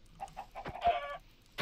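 A chicken in the Minecraft video game clucks several times in quick succession, short rhythmic clucks followed by a longer squawk, close and moderately loud against near silence.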